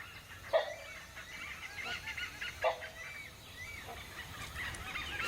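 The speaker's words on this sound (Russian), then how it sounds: "А это непальский калао." Rufous-necked hornbill in the Thai forest, calling twice with short loud honking notes about two seconds apart over steady insect and bird background.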